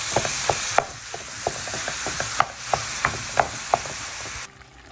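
Ground lamb and garlic sauté in a pan with a steady close sizzle, punctuated by regular clicks and taps of a utensil stirring, before the sound drops off at the end.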